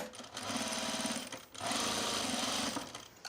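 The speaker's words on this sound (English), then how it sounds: "I'm going to stitch this down" A sewing machine stitching down an apron seam, two close, loud runs of rapid steady needle chatter separated by a brief pause.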